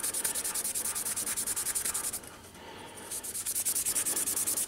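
Steel wool rubbed briskly back and forth over a metal boiler cladding tube, a close, fast rhythmic scrubbing that pauses briefly midway before resuming at the same pace.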